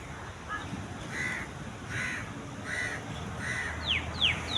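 Crows caw several times in a steady rhythm at moderate distance, followed by a few quick rising bird calls over a low background hum.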